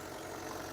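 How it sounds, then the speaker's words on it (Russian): A Kubota Saturn X-20 mini tractor with a four-cylinder engine idles steadily, a continuous even hum with low-frequency drone and no talking. "4 цилиндра двигатель. Думаю, слышно, как ровно работает."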